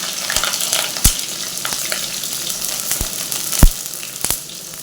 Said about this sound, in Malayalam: കൊച്ചുള്ളി ഇഞ്ചി വെളുത്തുള്ളി കറിവേപ്പില പച്ചമുളക് ഇതെല്ലാം കൂടി ഇട്ടിട്ടുണ്ടേ